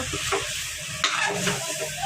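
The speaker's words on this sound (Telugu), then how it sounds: "ఇదైతే తాలింపు వేసేసిన" A spice tempering sizzles in a pan for mutton curry, with a short crackling burst and brisk stirring scrapes up close.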